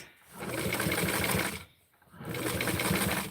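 A sewing machine stitches fabric in two sustained runs of rapid, even whirring, separated by a brief pause, heard close up with no voices.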